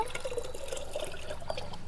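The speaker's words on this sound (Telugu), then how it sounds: "నేనైతే వర్షపు నీళ్ళు వేసేస్తున్నాను" Rainwater pours into a container in a steady, gentle trickle that runs evenly for a couple of seconds, close and fairly quiet.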